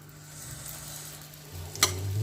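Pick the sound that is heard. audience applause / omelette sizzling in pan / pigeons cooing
omelette sizzling in pan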